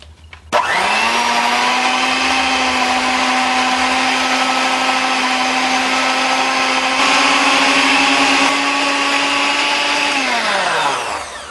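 An electric mixer beats cream cheese and softened butter together for carrot cupcake frosting, a loud steady motor whine that starts abruptly, holds for about ten seconds, then winds down, with no talking.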